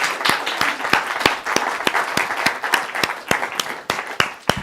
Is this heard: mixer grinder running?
no